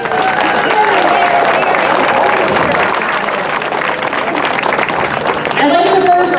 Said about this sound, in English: Let's give our host a round of applause.